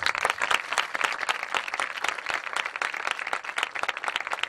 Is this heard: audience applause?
yes